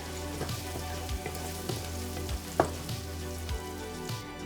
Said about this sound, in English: I'll go ahead and add this to our frying pan and continue stirring.